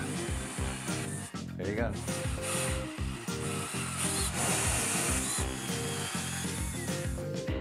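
A power tool whines and grinds against oak cabinet wood, loud and close, with brief pauses while a person says a few words.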